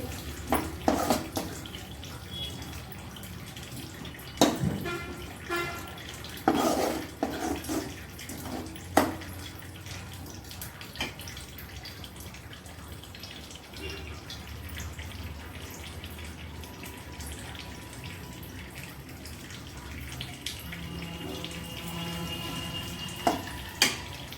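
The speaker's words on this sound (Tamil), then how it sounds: "இப்போ நம்ம இந்த புளி தண்ணியை ஊற்றிக்கலாம்" Tamarind water pours and splashes into a pan of dried-fish and egg thokku in several bursts, with clinks and a soft sizzling bed underneath; no talking.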